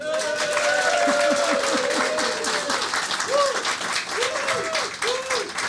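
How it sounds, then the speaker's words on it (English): Studio audience at a live comedy show claps loudly and continuously, with whoops and cheering voices rising over the thick wash of applause. "Applaud now."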